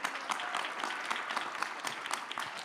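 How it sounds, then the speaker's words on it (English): An audience at a pitch event claps steadily in a dense, even patter of applause to welcome a presenter, heard at a moderate distance. "So I'd like you to make a thunderous applause."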